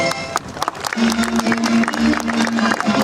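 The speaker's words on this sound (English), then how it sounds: "Please give a round of applause for him." Audience applause at a Filipino community gathering, a dense burst of many hands clapping with a few cheers, fairly loud and close, over a steady low hum.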